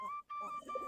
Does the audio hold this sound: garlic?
no